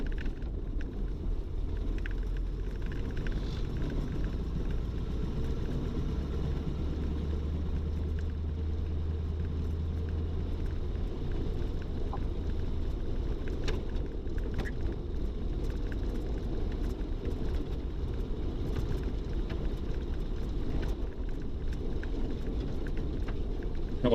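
A 1934 Ford V8 Victoria drives in high gear, its engine giving a steady low rumble with road and wind noise that holds evenly throughout, with no voices.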